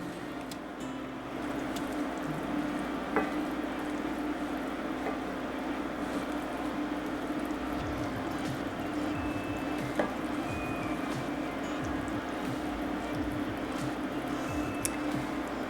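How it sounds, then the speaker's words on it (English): Creamy spinach chicken simmers in a pan as Parmesan cheese is stirred in, giving a steady low sizzle with soft squelching scrapes from the spoon throughout. "we're going to stir that in to get it melted"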